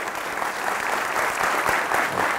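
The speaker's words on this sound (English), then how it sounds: "Let's give him a huge round of applause" Audience applause, a dense, steady round of clapping from a seated crowd at an indoor talk event, sustained throughout and close.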